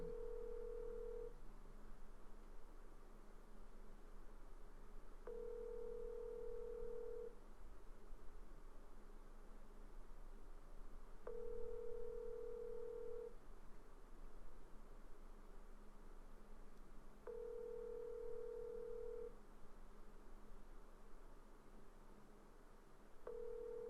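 Telephone ringback tone from a call left to ring through to voicemail, four evenly spaced long beeps about six seconds apart, thin and faint over a steady line hiss.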